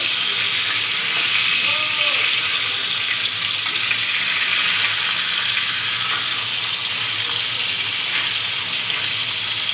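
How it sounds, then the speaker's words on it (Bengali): Spice-coated rui fish fries in hot oil in a pan, giving a loud, close, continuous sizzle with crackling that stays steady throughout. "ভাজি করে নেব এখন মাছটাকে উল্টিয়ে দিব"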